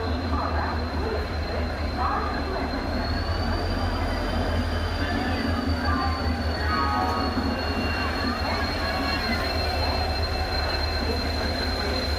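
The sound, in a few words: train arriving at station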